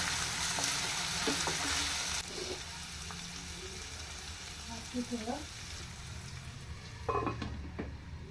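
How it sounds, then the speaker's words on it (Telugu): Dried peas frying in a covered pan, giving a steady loud sizzle with a few brief clinks and stirring sounds over it, close up. "వేగే చూసారా బఠానీలు వేగిపోయి కదండి"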